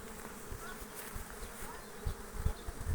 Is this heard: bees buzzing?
yes